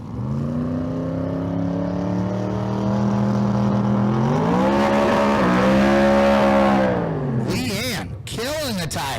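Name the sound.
small tire drag race car running at Street Car Super Nationals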